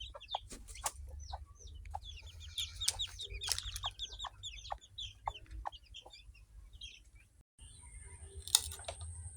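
A pet mother hen and her chicks being moved into their cage, soft repeated clucking mixed with high peeping chirps close by, over a low background hum.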